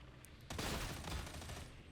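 A gun fired from the hip in Warhammer 40k: Darktide, a dense, loud rattle of rapid shots that starts abruptly and keeps going to the end.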